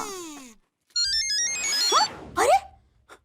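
A bright electronic ringtone plays a quick tinkling melody with rising electronic sweeps, loud and close, ending in short chirps.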